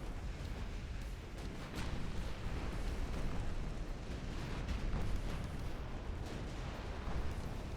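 Warship secondary guns firing in the naval video game Ultimate Admiral Dreadnoughts, a dense continuous rumble of overlapping booms and blasts with no clear gaps, loud and steady throughout.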